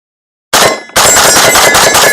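A light rifle fires rapid shots at a left steel target plate. After a moment of silence, loud, close cracks come in a fast string, each with a metallic ring from the plate.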